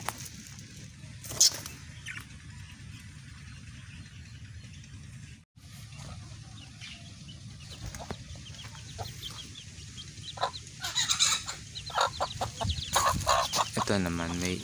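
A hen clucks outdoors on a farm in Pampanga, with intermittent low clucks over background noise, a few sharper calls, and a busier stretch of bird sounds toward the end.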